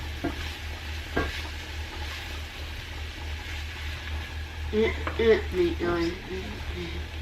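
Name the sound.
stirring vegetables cooking in a pan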